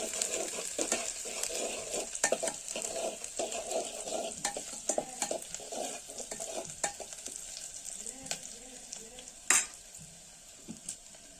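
Chopped onion fries in hot oil, sizzling steadily while a spoon stirs and scrapes the pan in repeated clinking strokes, close by and with no talking.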